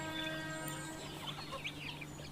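Young mixed-age country chickens, about two to five months old, in a traditional backyard flock, clucking faintly against a steady low hum, with soft overlapping calls throughout.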